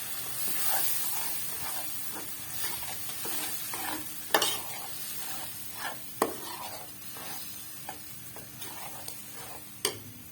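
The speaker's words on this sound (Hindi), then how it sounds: "यहाँ डालेंगे जी हम बिस्मिल्लाहिर्रहमानिर्रहीम अदरक लहसुन और टमाटो का पेस्ट डाल देंगे।" Ginger, garlic and tomato paste hisses and sizzles as it hits hot frying masala for a Lahori fish curry, steady frying noise broken by sharp clinks and scrapes of a spoon against the pan, close and alone.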